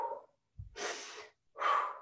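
Heavy, ragged breathing after a hard exercise set: three loud, close gasping breaths with short pauses between them, and no one speaking.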